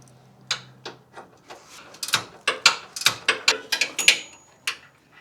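A ratchet tightens the 19 mm upper bolt on a Lexus GX460 sway bar end link, producing a run of sharp close clicks that start sparse and then speed up into a steady rapid rhythm.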